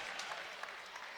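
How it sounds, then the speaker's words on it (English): A basketball crowd gives an injured player a standing ovation, a faint, distant wash of steady clapping heard over a brief stretch. "gets a standing ovation"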